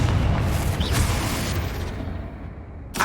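A Confringo spell blasts in Hogwarts Legacy as one loud explosive boom that rumbles and fades over a few seconds, ending with a brief new burst.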